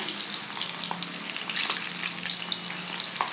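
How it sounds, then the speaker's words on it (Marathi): Corn kernels frying in oil for crispy corn, loosened apart with a slotted spoon: a steady, dense sizzle throughout, with occasional soft clicks of the spoon, close and even. "कॉर्न घालून घेते आणि हे थोडं झाऱ्याने असं सुट्टं करून घेते"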